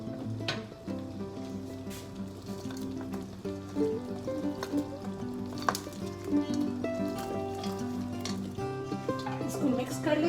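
Chicken pieces dropped into a thick sauce in a hot pan for Chinese chicken manchurian, sizzling and frying steadily with stirring and scraping, close and loud, while a person talks over it.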